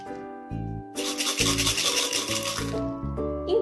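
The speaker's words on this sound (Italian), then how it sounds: "realizzate due maracas e sentite il suono diverso a seconda di cosa mettete all'interno" Homemade maracas made from recycled materials and filled with lentils or chickpeas are shaken in one steady burst, giving a soft, gritty rattle over faint background tones.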